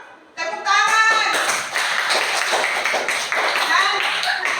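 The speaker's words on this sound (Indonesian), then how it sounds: "Bagus, tepuk tangan." A primary school class of fifth-graders claps together after brief opening sounds, a dense burst of hand applause that goes on steadily and fairly loud.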